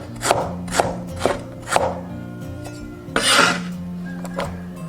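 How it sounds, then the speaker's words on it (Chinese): Aged ginger sliced with a knife on a cutting board: a series of crisp, evenly spaced chopping taps close by, with one heavier thud near the end. "准备一些老姜切片"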